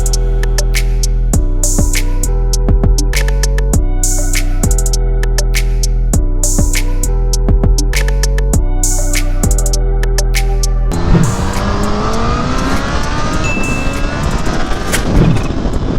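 A Kawasaki Ninja H2 motorcycle ridden at quarter throttle, a loud close engine drone rising and falling in repeated pulses with gear shifts, then turning into heavy wind rush and road roar.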